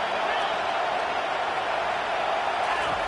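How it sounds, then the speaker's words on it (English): A football stadium crowd roars in a dense, steady wash of noise with no break in level. It sounds large and loud, with no single voice standing out. "Listen to this crowd just shaking the girders of this place"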